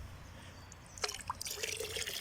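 Water scooped into a smooth gold panning pan, a faint splash and trickle with a few small drips after a quiet stretch.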